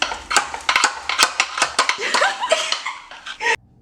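Cheesy rice being stirred in a pot, with scraping and clinking of a utensil against the pot in quick irregular strokes, close up, with a brief cough-like sound and faint voices mixed in.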